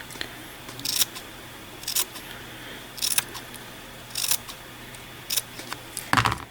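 Scissors snip through a fluffy yarn tassel in six crisp, evenly spaced cuts about a second apart, close and clear against a quiet room.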